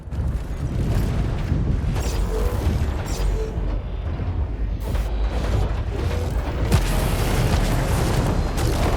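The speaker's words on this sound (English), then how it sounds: "Incoming missiles." Missile explosions in the mech combat game War Robots: Frontiers as a Titan fires missiles almost non-stop, a dense, continuous rumble of booms and bursts with no quiet gaps, loud throughout.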